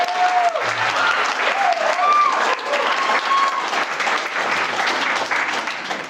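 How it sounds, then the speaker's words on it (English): Wedding guests give the photographers a big round of applause, sustained dense clapping with scattered voices and cheers over it, steady throughout. "So a big clap for them, please."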